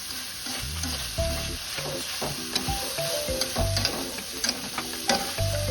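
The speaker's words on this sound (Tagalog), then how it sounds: "At syempre, haluin din natin ng mabuti yan." Pancit canton noodles and vegetables are stirred in a frying pan, with a steady sizzle and repeated scraping and tossing sounds close by and no talking.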